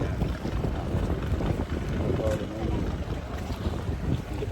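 Strong wind buffets the microphone in a constant roaring rush on a boat tour to Sabtang, Batanes, with the low wash of water and the boat's drone beneath.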